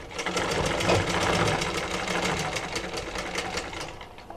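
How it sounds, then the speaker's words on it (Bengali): A sewing machine stitches a blouse seam in a steady, fast, continuous run of needle strokes, close and fairly loud throughout, with no talking. "তো সেলাইটা আমি ডাবল করে দিয়ে দিব।"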